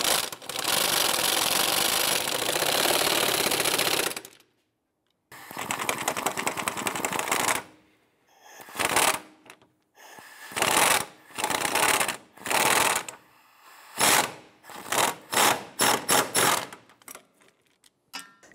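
Ratchet tightening the rear strut and spring assembly bolts on a 2005-2007 Ford Five Hundred: a long stretch of rapid mechanical clicking, a pause, then a series of short, close, repeated clicking bursts.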